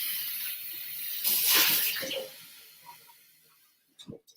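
Water runs from a tap into a blender for about a second, a bright splashing hiss that fades. A couple of faint knocks follow.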